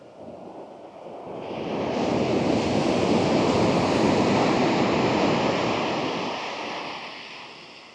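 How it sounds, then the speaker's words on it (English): Ocean waves surge and break against rocks in a long roaring wash that swells and fades, with wind buffeting the microphone throughout. "We've got rocks, we've got waves, and we've got the Neo."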